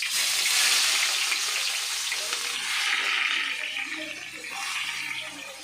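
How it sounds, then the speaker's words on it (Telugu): Onions go into a hot pan for gongura chicken and set off a loud, steady sizzle that stays strong throughout and swells and eases slightly as the pan is worked. "ఇగోండి ఉల్లిపాయ అయితే వేస్తున్నా"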